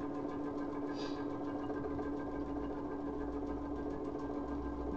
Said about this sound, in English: I'm going to stitch down 1/4 inch either side.